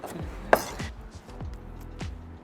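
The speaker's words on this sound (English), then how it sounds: "Right now we're chopping the onion." A kitchen knife chops onion on a board for beef tartare: a few sharp, close strikes spaced unevenly, the loudest near the start and others following about every half second, over quiet background.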